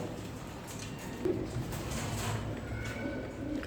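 Birds in a breeding cage, parents feeding chicks, heard as soft, continuous cooing and chirping over a dense, steady background hum.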